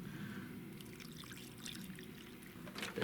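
Water pours and trickles steadily from a plastic gallon jug, a continuous close-up liquid stream with gurgling splashes, ending in a slightly louder glug.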